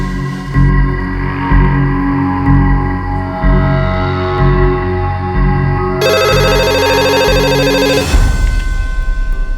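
An electronic phone ring plays loudly, tones layered over a droning background, with a sharper burst of ringing before it cuts off.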